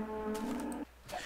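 A Minecraft cow gives a single low, drawn-out moo, clear and close, followed by a brief softer tail.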